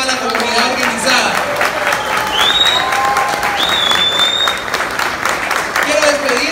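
A community gathering applauds strongly after a speech by a Guatemalan immigrant congressman, the clapping continuous and fairly close while whistles and voices rise above it.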